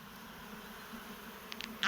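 Honey bees buzz around an open hive during a beekeeping inspection, a faint, steady drone that holds low and continuous before a sudden louder burst at the very end.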